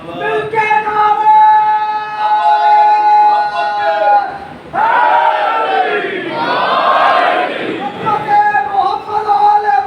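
A large crowd at a religious majlis gathering shouts slogans together in unison, loud sustained massed voices in repeated call-and-response bursts filling the space.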